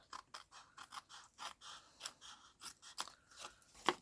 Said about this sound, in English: using the edge of my scissors up against the envelope as I cut as a guide